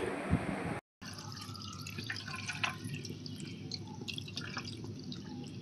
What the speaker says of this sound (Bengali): ছানাতে এখন আমি একটু ঠান্ডা জল দিয়ে দিচ্ছি।